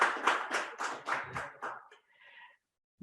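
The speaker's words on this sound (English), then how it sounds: "I think they deserve a round of applause wherever they are." Applause from a small audience at an education summit, a handful of quick, close claps fading out after about two seconds, followed by a faint voice and near silence.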